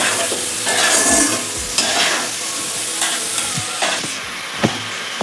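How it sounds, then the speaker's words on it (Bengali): Spice paste with a little sugar is stir-fried in a pan for a jackfruit and prawn curry. A loud sizzle is broken by repeated spatula scrapes and knocks against the pan at an uneven pace. "মশলাটাকে আমি ভালো করে কষিয়ে দেবো।"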